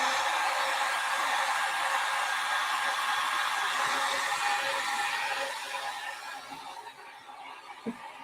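A handheld dryer blows steadily to dry a thin coat of paint, a constant broadband whoosh that runs loud for several seconds, then drops and tapers as it is pulled away or switched off near the end.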